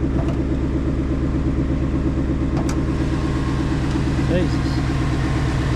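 A 5-litre V8 Ford Mustang idling on a cold start, a close, steady, loud engine rumble with an even pulsing beat throughout, and faint voices under it.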